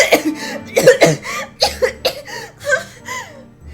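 A series of staged coughs performed in a reading of visual novel dialogue, several sharp close bursts in quick succession with breathy, half-laughing voiced fragments between them.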